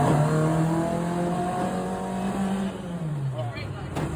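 Car accelerating hard after dropping a gear, heard from inside as a loud, strained engine drone that holds steady and then sags in pitch as speed builds, with a voice talking over it.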